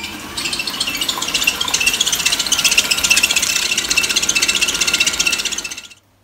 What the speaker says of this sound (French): ne vous en faites pas pour le bruit du batteur souple, c'est normal